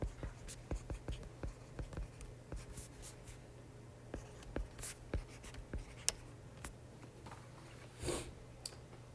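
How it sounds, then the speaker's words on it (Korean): Pen strokes scratch across paper as equations for a physical chemistry lecture on variational principle and perturbation theory are written out by hand, a quiet, close run of short irregular scribbles and taps with no talking. "여기 하여튼 식을 제가 정리한 걸 한번 써볼게요"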